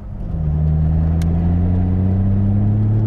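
Nissan R32 GT-R with a 550hp engine building revs, a loud close steady drone that swells over the first half second and then holds at high volume, no talking.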